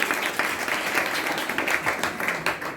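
An audience at a religious class session claps loudly together, a dense steady roar of hands lasting a few seconds without pause.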